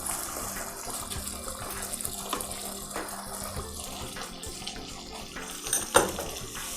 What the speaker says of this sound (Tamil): கொதிக்கிற வெந்நீரை விட்டுருங்க